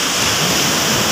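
Sea waves crash at the shore, a loud, dense, continuous roar of churning surf filling the moment with no speech.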